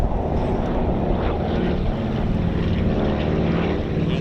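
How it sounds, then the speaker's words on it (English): The Douglas C-49 transport "Wildcat" drones overhead on a streamer run at a World War II airshow, its propeller engines making a steady, moderate throbbing rumble at some distance. "Here comes Wildcat, the C-49, courtesy of the World War II Airborne Demonstration Team"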